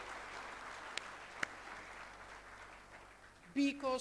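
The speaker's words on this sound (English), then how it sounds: "Yes, applaud yourself" Audience applause from a crowd of over a thousand at a nutrition gathering's opening ceremony in Nepal, a steady wash of many hands clapping at moderate level, with a couple of sharp knocks and a voice briefly breaking in at the end.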